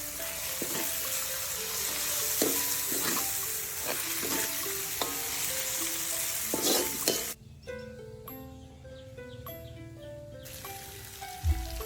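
Small pieces of seasoned fish frying in hot oil sizzle steadily while a spoon stirs and scrapes them in repeated strokes, up close. A soft tonal melody appears partway through.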